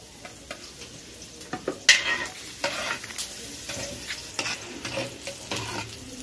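Garlic and onion browning in a pan for spaghetti, a steady oily sizzle with a spatula scraping and stirring against the metal, plus a few sharper clinks, close and alone with no talk.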